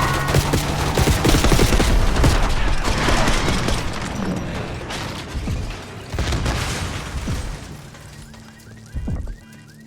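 Heavy gunfire in Call of Duty: Black Ops 6, dense overlapping automatic bursts and booming impacts filling a street battle, loud and continuous at first, then easing into intermittent volleys and a final sharp burst.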